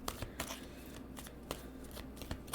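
A deck of tarot cards is shuffled and a card drawn, making close, rhythmic riffling flutters and soft slaps that repeat several times in quick succession.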